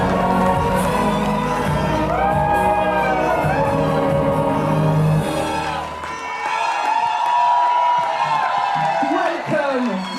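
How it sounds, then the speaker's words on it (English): A crowd applauds and cheers for sailor Jingkun Xu, the 100th skipper to finish the Vendée Globe. Steady, loud clapping and whoops fill the space while an announcer talks over it throughout. "S'il vous plaît, un tonnerre d'applaudissements pour Jingkun."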